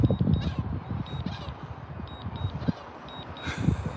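A seagull near a flying drone gives a series of short, harsh calls in quick bursts over a low, uneven outdoor rumble, ending with a sharp burst of noise.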